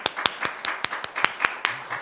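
A small church congregation claps in a slow, even rhythm during a Sunday sermon, about ten distinct sharp claps in quick succession, close and crisp with no talking.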